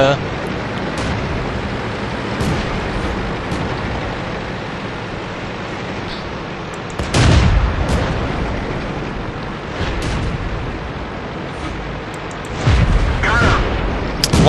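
A loud boom from an M5 Stuart tank's gun in a war game bursts out over a steady engine rumble, followed by further heavy blasts near the end, with a player talking throughout.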